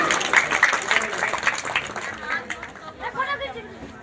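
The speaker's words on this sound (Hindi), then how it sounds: "जोरदार तालियों से उनका स्वागत करें" An audience at a village event for the Rasulpur model panchayat claps to welcome a teacher being honoured, the applause blending with loud crowd chatter and a voice speaking over it.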